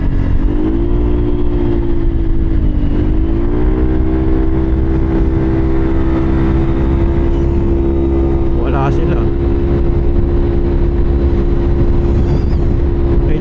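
Yamaha Aerox 155 scooter climbing uphill at night, its engine droning loud and steady close by, pitch rising slightly as it pulls, with brief speech over the motor.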